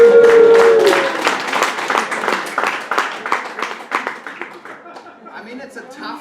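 A lecture audience at a ski instructors' Interski 2023 gathering claps, starting dense and loud and thinning into scattered, fading claps over several seconds, with a voice briefly heard at the start.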